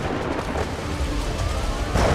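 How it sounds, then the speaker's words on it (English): Thunder from a massive tropical thunderstorm, a deep continuous rumble with a hiss like heavy rain, loud and steady throughout with a slight swell at the end. "A massive tropical thunderstorm is building in the skies above them"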